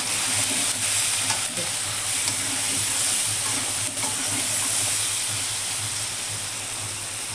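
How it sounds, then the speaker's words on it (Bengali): Food frying with salt and turmeric for an egg omelette and potato curry gives a loud, steady hiss and crackle, close up, with faint stirring knocks beneath and no talking. "আন্দাজ মতো লবণ হলুদ লাল লাল করে ভেজে নেব"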